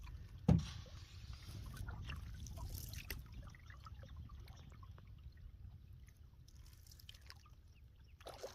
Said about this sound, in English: Bumped the bottom of the canoe on the bottom of the river.